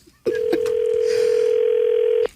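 A steady telephone dial tone hums for about two seconds, loud and close, with a click as it starts and another as it cuts off.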